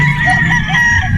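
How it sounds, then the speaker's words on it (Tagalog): A gamecock at a game farm in Batangas crows loudly and close by in one short, sustained call. "Ito gwapong manok din ito"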